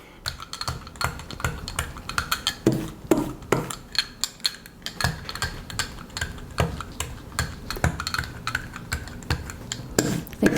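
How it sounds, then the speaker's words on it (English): A brayer rolls paint out across a gel printing plate in a busy series of close, tacky clicks and rattling knocks, fairly loud and irregular, with no talking. "I'm going to squeeze some paint out onto the plate and start to roll it"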